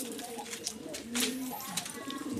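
Pigeons coo softly in a backyard coop in the morning, repeated low rolling calls overlapping one another, with a few sharp bright sounds and bird movement close by.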